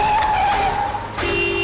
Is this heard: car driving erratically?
yes